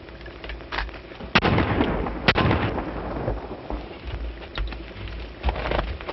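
Gunshots fired at a man's shirt tail in an old 1933 film. Two sharp cracks ring out against a crackly, noisy background.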